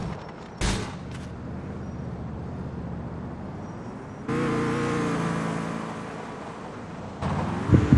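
A car driving in the game GTA IV, with a steady engine and road drone that swells louder midway and ends in a brief burst of revving and clatter.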